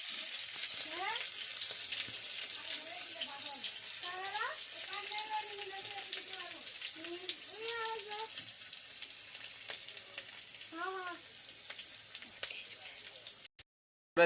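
Chillies sizzle and crackle steadily in hot mustard oil, a continuous bright frying hiss with a voice talking over it.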